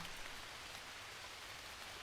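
Rain falling in the survival video game Green Hell: a steady, even hiss of dense downpour, soft and continuous throughout with no talk.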